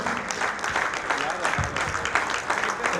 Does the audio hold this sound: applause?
yes